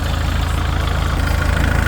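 A Kubota L4508DI farm tractor's diesel engine idling close by, a loud steady low rumble with an even, fast chugging pulse and no speech over it.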